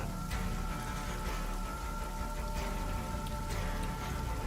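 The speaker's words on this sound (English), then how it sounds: "Large hailstones now." Large hailstones rattle down through a tree canopy in a dense, steady patter of countless small impacts, loud and continuous for the whole stretch with no voices.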